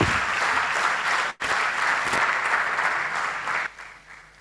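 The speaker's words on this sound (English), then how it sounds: "I think Prof deserves another round of applause" A keynote lecture audience gives sustained applause for a professor, a steady dense patter of clapping with a brief dip midway before tapering near the end.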